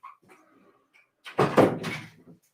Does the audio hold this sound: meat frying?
no